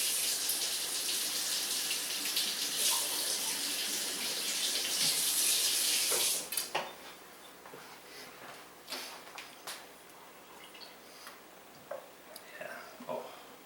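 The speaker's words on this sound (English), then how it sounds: "Gonna rinse my knife real quick." Kitchen tap water runs loudly for about six seconds as a knife is rinsed under it, then shuts off, leaving scattered drips and light clinks; someone talks at points.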